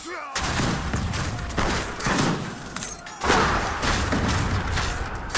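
Massed musket volleys crack and thump in Age of Empires 3 Wars of Liberty, several heavy bursts of overlapping gunfire in quick succession, with shouted commands mixed in.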